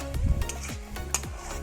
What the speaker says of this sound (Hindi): इसको लाइट सा कलर आने तक फ्राई करना है और साथ ही इसके अंदर हमने अपना लहसुन भी ऐड कर देना है साबुत ही